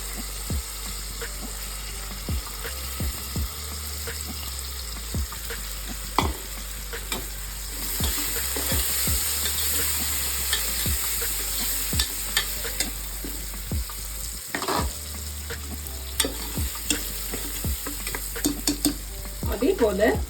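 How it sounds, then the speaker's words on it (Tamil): Washed green gram sprouts get stirred in a hot pan for Karnataka-style sprouts saaru, with a steady sizzle and repeated close scraping and clinking of a spoon against metal, continuous and without talk. "இப்போ இந்த வாஷ் பண்ணி வச்சிருக்க பச்சை பயிறு ஸ்ப்ரவுட்ஸை சேர்த்துக்கோங்க."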